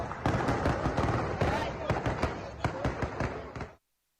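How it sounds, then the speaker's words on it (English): A rapid, sustained series of sharp cracks and bangs, dense and irregular, ending abruptly into silence. "The gunfire was sustained"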